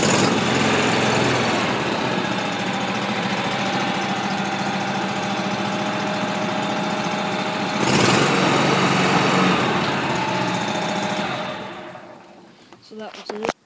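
A John Deere Z925M zero-turn mower engine runs steadily at a loud, close idle after a cold start. Its tone lifts briefly partway through, then the engine shuts down and goes quiet at the end.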